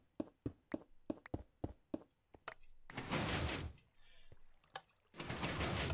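A door mechanism working in Minecraft: a series of crisp clicking taps in quick rhythm, followed by two longer hissing, whooshing bursts of the door moving, fairly close with little talk.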